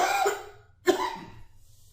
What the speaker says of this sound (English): I feel a cough coming.